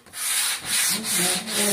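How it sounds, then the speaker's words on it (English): Steady back-and-forth sanding of a wooden board with a sanding block, four or five long rasping strokes, close and loud with no voices. "you're going to take your sanding block and you're going to start distressing your board"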